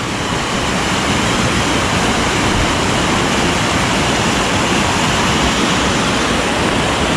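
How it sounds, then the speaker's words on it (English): Water rushes steadily down the waterway below Wensley waterfall, a loud, broad, unbroken roar close by with no voices. "This is the bottom end of it, of the waterway that's coming from the falls."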